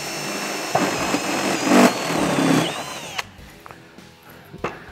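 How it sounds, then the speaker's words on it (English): A step drill boring a half-inch hole through a car dashboard, a steady whining drill tone that rises and shifts in pitch for about three seconds, then cuts off, leaving brief clicks and handling noises, close up. "Then get yourself a step drill or any drill up to a half inch hole is what you need."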